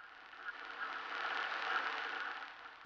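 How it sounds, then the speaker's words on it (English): Emulated reel-to-reel tape motor noise from a tape emulation plugin, a steady, faint broadband whir and hiss that holds evenly throughout with no talking over it. "And you even have the sound of the tape motor."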